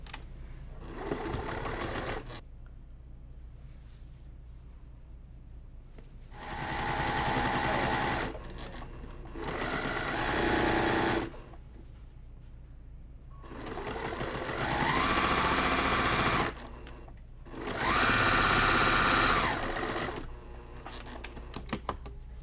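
Sewing machine stitching around the edge of a cross stitch mug rug, several steady bursts of fast rhythmic whirring and clatter separated by brief pauses and fabric handling, close and distinct.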